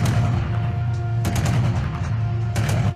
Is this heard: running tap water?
no